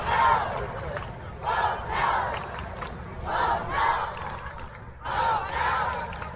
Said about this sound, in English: Chanting vote no.